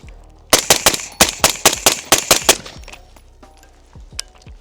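A rapid burst of about ten sharp gunshots fired through a single stage trigger, loud and close in quick succession, followed by a few slower, scattered shots.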